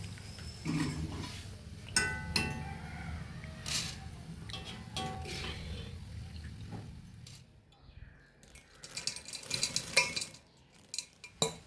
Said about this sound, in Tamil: இப்போ பாருங்கள், காரா பூந்தி எல்லாமே ஊற்றிட்டோம்